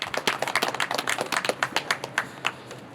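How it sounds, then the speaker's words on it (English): A small crowd claps at a cemetery administration building dedication, giving a thin round of distinct, fairly close handclaps with an irregular rhythm that loosens and thins out toward the end. "round of applause for you guys."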